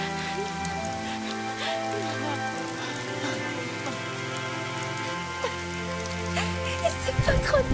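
Rain falls on surfaces in a steady, moderate patter beneath a sustained musical backdrop of held tones, with a few louder splashes near the end.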